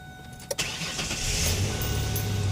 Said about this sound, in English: Car starts, that's good.